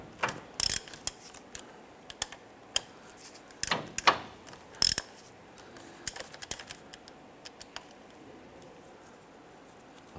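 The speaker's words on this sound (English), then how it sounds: "I want to go ahead and loosen these bolts." Ratchet loosening the 15mm bolts that hold a CV axle to the front differential of a 2015-2020 Cadillac Escalade, heard as scattered sharp clicks and short bursts of ratcheting, fairly quiet and close, with no talking.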